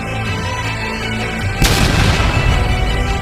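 A missile explosion in a strategy video game hits with a sudden loud boom midway, following a steady electronic background, and leaves a rumbling crackle that rolls on to the end.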